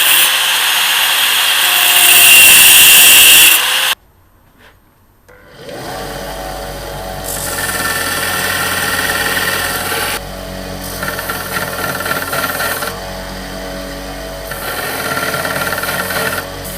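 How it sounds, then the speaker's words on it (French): An angle grinder cuts protruding rivets on a flat-tang knife, a loud steady whine, then after a short pause a sanding machine roughs out the handle scales with a sustained buzzing drone that swells and eases in passes. "je vais venir couper les rivets qui dépassent à la disqueuse. Et ensuite, à la machine à poncer, on va venir dégrossir pour former les plaquettes"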